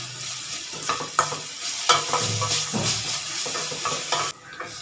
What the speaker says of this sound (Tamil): அப்புறம் சீக்கிரம் வெங்காயம் வதங்கிடும்.